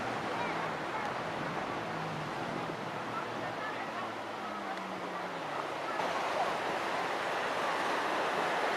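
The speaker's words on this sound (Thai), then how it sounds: "ครับสำหรับจุดนี้นะฮะก็เป็นหาดทรายแก้วนะครับ" Surf washes continuously onto Sai Kaew beach on Koh Samet island, a broad steady roar of waves with wind noise and faint distant activity.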